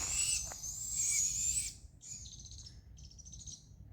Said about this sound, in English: There are 3 owls here.